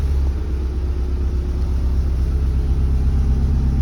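2010 Subaru STI with a Cobb exhaust and mufflers idling, a steady, low, throbbing burble heard close and fairly quiet, no voices.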